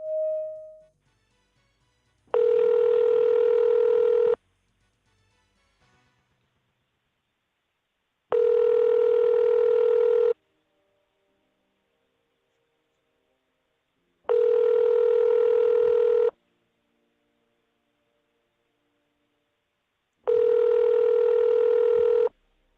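Telephone tone bursts from a phone call, four identical steady tones about two seconds long, evenly spaced with silent gaps between them, loud and clean with no one talking.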